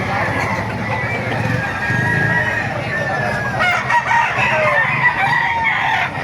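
Roosters crowing repeatedly at a busy chicken market in Baliuag, Philippines, loud and close with clucking fowl and someone talking throughout.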